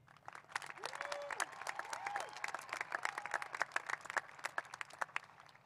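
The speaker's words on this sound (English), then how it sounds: "Can we get a quick round of applause for our seniors here?" An audience at a high school commencement ceremony applauds the graduating seniors, dense clapping that grows louder and more distinct toward the end, with cheers and a whistle rising over it.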